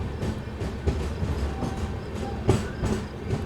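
The Rayalaseema SF Express runs after leaving Mantralayam, heard from on board as a steady rumble with rhythmic clickety-clack wheel beats and occasional clanks.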